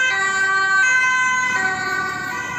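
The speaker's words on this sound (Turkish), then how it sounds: "Ambulans arabası o da." An ambulance siren wails loud and steady on a Rotterdam street, its tones holding close with no talk over it.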